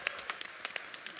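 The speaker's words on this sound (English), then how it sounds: "give this guy a round of applause" An audience gives a volunteer a round of applause: scattered, faint hand claps at an uneven rhythm, fairly distant and sparse rather than a full roar.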